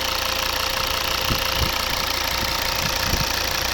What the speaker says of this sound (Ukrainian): Чітко рівно працює двигун.